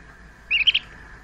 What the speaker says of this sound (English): There's his little cheep.